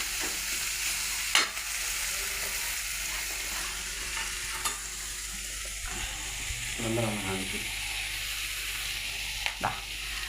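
Snake gourd, beans and onion stir-fry for Kerala mezhukkupuratti in a home kitchen, with a steady loud sizzle, occasional scraping stirs and clinks of a spoon on the pan.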